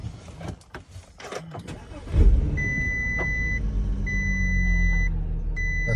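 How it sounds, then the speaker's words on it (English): A 2011 Volkswagen Touareg engine turns over and catches, settling into a steady idle, while a warning chime beeps repeatedly in the cabin, with an electronic parking brake fault. "I'll start the car."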